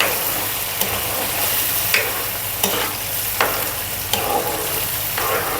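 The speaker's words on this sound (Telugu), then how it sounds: "ఇది బాగా ఇట్లా తిప్పుకుంటే" A Guntur-style gongura pulihora mixture is stirred in a pan over the heat, with a steady sizzle beneath repeated spoon scrapes against the metal, roughly one every second, close and moderately loud with no talking.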